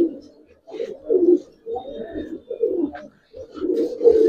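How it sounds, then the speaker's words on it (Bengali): A male Beji Giribaz pigeon coos close by in a series of low, throaty burbling phrases separated by short pauses, repeated about four times. "এটি ডাইরেক্ট বেজি কবুতর"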